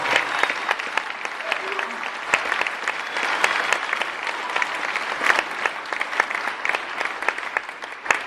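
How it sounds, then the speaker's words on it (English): A rally crowd for jobs in Port Arthur applauds military veterans who served in Iraq or Afghanistan, with dense sustained clapping and scattered sharper claps across the whole stretch and a faint voice now and then underneath. "Let's give them a round of applause."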